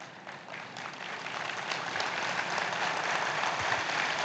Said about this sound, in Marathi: इच्छुक अजून जोरात टाळ्या मारतात